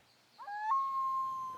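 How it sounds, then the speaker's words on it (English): A common loon calls across a calm lake: a single faint, distant wavering note that slides upward and then holds as a long, steady, mournful tone. "Hear that? That's a loon call."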